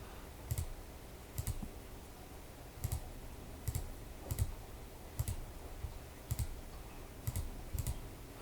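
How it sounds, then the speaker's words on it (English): A computer mouse clicks quietly at a desk, about a dozen sharp, isolated clicks in irregular pairs and singles over a low room hum, with no talking. "Okay, and I'm clicking here, and there we go."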